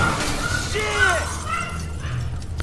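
A car smashing through showroom glass in GTA V, with glassy ringing shards and tinkling debris falling across the whole stretch over a low background rumble.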